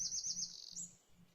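Birds chirp as ambient game sound in Colony Survival, a quick run of high, bright tweets that sits alone and fades slightly by the end.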